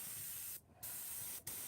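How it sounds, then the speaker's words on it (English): Short bursts of spray paint hiss over a stencil, one longer spray broken by two brief pauses, close and fairly quiet with no talking. "So we'll go ahead and spray this down."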